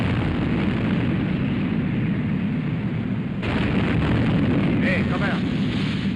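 Naval shells exploding in a film battle scene of the Battle of the River Plate, with a continuous heavy roar and rumble of blasts and sea noise, a sharper burst partway through, while a voice speaks over it.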